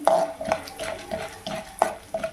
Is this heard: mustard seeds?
yes